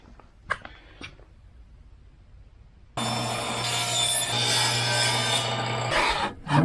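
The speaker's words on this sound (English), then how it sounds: "So I'm going to cut the French cleat" Power saw cutting a wooden board into a French cleat, starting abruptly after a few quiet seconds with light knocks, then running loud and steady with a constant hum and broad rasping noise before briefly dropping near the end.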